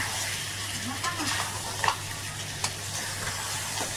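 Crab masala with a splash of water is stirred in a pan, giving a continuous soft sizzle broken by a couple of brief spoon knocks and scrapes, with occasional light talking.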